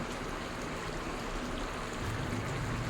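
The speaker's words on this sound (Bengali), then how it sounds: "খোলা রেখে হাই ফ্লেমে মিনিট 2 ফুটিয়ে নেব।" Pumpkin, potato and pointed gourd curry with shrimp boiling uncovered on high flame, a steady, even bubbling hiss that holds constant throughout, with no voices.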